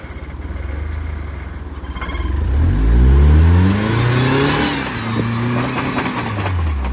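An off-road vehicle engine crawling in 4 low, first gear at Durhamtown Off-Road Park, idling and then revving up with rising and falling pitch sweeps, loud and close throughout.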